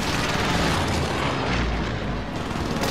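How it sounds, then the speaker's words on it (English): Precision airstrike explosions rumble continuously in Call of Duty on Fortune's Keep, a dense, loud wall of deep booms and blasts with no gaps. "Precision airstrike incoming."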